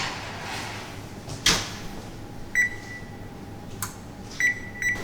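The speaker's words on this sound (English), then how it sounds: "I'm going to put them in the oven for 20 to 25 minutes" A kitchen oven as muffins go in to bake, with a sharp door thunk near the middle, then several short electronic beeps from the control panel over a low steady hum.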